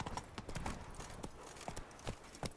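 Roach, Geralt's horse in The Witcher 3, trots with steady, fairly soft clip-clop hoofbeats in an even rhythm, heard close and without talk.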